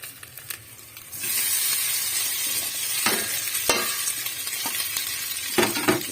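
Pechay being sautéed with garlic in a pan, a soft hiss that jumps into loud sizzling after a second, with scraping stirs and utensil clacks breaking through the steady frying.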